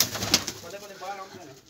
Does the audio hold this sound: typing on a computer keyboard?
no